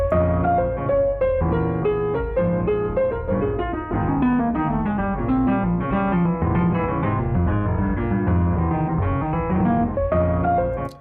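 A busy, dense lo-fi beat loop of sampled drums with layered chords and a low rhythmic bed plays continuously at steady volume, cutting off abruptly at the end.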